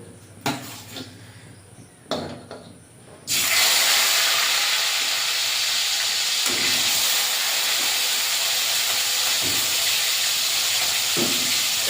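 Laila fish slide into hot oil in a wok after a few clanks of pan and utensil, bursting into a loud, close, hissing sizzle that carries on steadily for several seconds.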